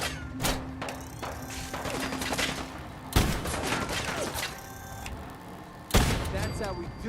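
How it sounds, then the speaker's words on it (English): Gunfire in the video game Fallout 4 comes as heavy booming shots, a few loud blasts spaced seconds apart amid clattering combat noise, with voices talking in between. "I think we're being shot."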